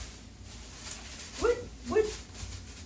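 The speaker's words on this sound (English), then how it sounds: "What are you barking at?" A dog gives two short, high-pitched barks about half a second apart, fairly quiet and somewhat distant, with faint background hum.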